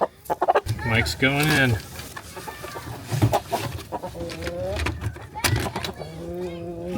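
Backyard hens and a young rooster on a homestead cluck and squawk in loud, close bursts, with a person talking among the calls.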